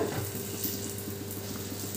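A chhena (paneer) paratha fries on a pan with a steady, soft sizzle, close and fairly quiet throughout, with no voices.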